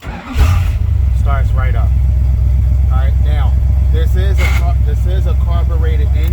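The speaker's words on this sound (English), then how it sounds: "You put your foot on the clutch, brake, and then the engine start is right here." A carbureted car engine cranks and catches, then settles into a steady loud idle while someone talks over it.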